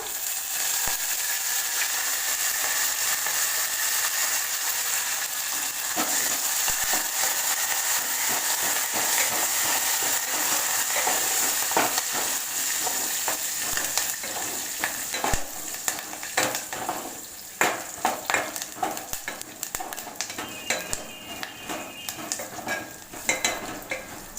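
A tempering of mustard seeds, cumin, dried red chilies, split lentils and curry leaves fries in hot oil, a loud continuous sizzle with crackling pops that grows spikier and more scattered as stirring scrapes come through toward the end.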